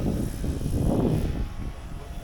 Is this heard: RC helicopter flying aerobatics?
yes